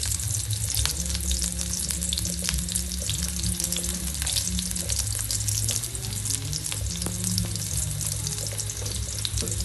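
Bay leaf, cumin and whole spices fry in hot oil with a steady, close sizzle and crackle, and occasional stirring clinks run through it.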